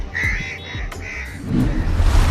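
Crows cawing close by, several harsh caws in quick succession, followed by rustling background noise.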